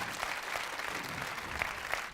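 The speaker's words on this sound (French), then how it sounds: "c'est sous les applaudissements qu'on vous raccompagne sous le tunnel" A TV game show studio audience, on Le Bigdil, applauds steadily with a dense, even patter of clapping as contestants are shown out.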